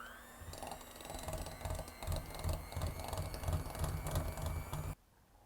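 A hand mixer runs on low speed, blending mascarpone with a chestnut base. It gives a steady mechanical whir and rattle for about five seconds, then stops abruptly, with no voices.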